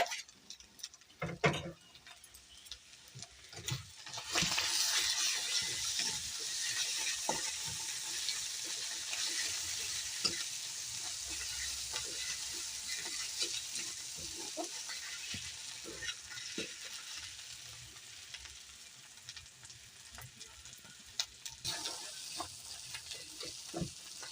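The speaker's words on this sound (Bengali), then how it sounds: "ভালো করে মশলাটা কষিয়ে নিতে হবে।" Onion masala with ginger-garlic paste frying in a pan, a steady moderate sizzle after the paste drops in, broken by repeated scraping stirs and clinks of the spatula.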